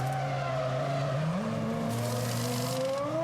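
A Ferrari Formula 1 car at the 2000 Japanese Grand Prix screams loudly with a high, tonal engine whine that dips and climbs through gear changes, sustained and up close.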